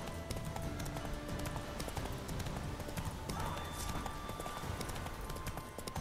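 Roach, Geralt's horse in The Witcher 3: Hearts of Stone, gallops along a road, a steady rapid clip-clop of hooves under a dense game soundscape of ambient music and wind, with no talking.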